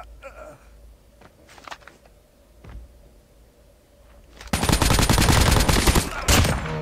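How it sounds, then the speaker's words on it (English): Automatic gunfire from a Call of Duty Mobile battle royale match, a few scattered shots early on, then a loud sustained burst of rapid fire over the final two seconds. "Was he shooting at someone? Or was he shooting at me?"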